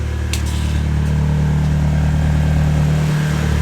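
A modified turbocharged Mitsubishi Galant runs steadily and fairly quietly, a low, even engine hum with a constant tone, close by and alone, with a couple of faint clicks early on.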